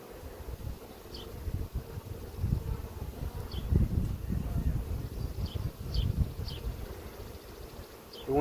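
Honey bees buzzing around an open beehive, a soft, continuous swarming hum with individual bees passing close by, faint and steady throughout with a little rustling.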